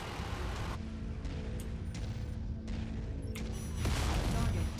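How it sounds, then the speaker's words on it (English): Autocannon fire from a Mechwarrior 5 battle mech lands as heavy, dense booms over a constant mechanical roar, with several sharp reports spread across a few seconds and a louder burst at the end. "You can definitely feel the power of the autocannon"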